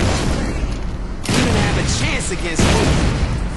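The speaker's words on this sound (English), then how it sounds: "We have Mayhem, which I'm doing right now, which is basically blowing stuff up." Heavy booms and blasts from blowing things up in the Saints Row 2 video game, dense and loud with a sharp burst partway through and another near the end, no talk over them.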